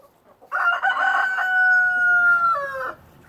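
A rooster crows once, a long, loud, close call that wavers and then drops in pitch at the end.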